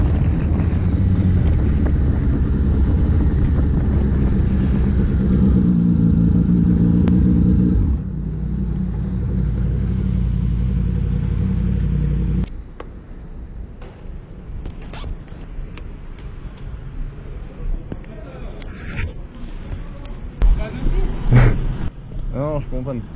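Motorcycle at a highway toll booth idling with loud steady engine rumble that abruptly drops, then cuts out as it stalls, leaving quieter ambient noise with voices talking and scattered clicks and rustling.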